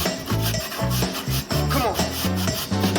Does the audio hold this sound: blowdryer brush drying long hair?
no